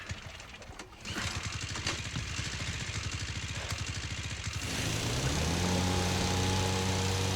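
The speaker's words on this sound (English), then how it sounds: "A noisy boat in a water with a monster." A noisy motorboat engine on a lake in a video game drones steadily and loud, its rattling putter shifting into a smoother, higher revving hum partway through.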